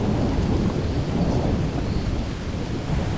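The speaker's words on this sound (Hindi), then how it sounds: "बारिश की बादलों की आवाज़ आ रही थी, बारिश की आवाज़ आ रही थी" Thunder rumbles beneath steady heavy rain throughout, a dense low roar with no voices.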